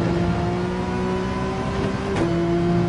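Porsche 911 RSR engine in Gran Turismo 7 held on throttle at Dragon Trail Seaside, a loud steady high-pitched race-car drone with a brief pitch shift, close and continuous.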